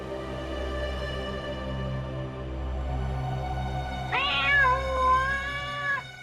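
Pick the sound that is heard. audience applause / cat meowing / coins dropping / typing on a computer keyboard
cat meowing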